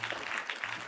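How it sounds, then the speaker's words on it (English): Sustained audience applause for a keynote speaker at an International Production Design Week event, a steady wash of many clapping hands across the whole moment with no pauses. "So give a big round of applause for Jason"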